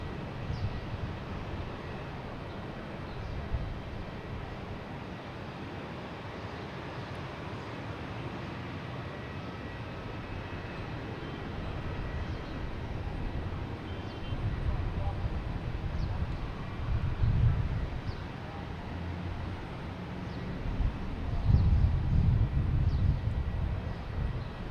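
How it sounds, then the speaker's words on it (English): A Cape Air plane arriving from Hyannis at Boston Logan Airport, a distant steady engine rumble that swells gradually toward the end, heard outdoors with some background noise and faint speech. "We also have a Cape Air coming in from Hyannis."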